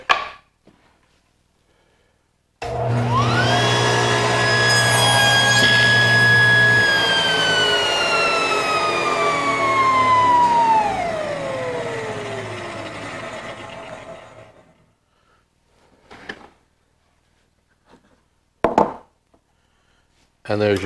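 A table saw makes a square cut through a piece of wood: the motor whines up, runs steadily through the cut for several seconds, then spins down with a falling tone, followed by a few light knocks.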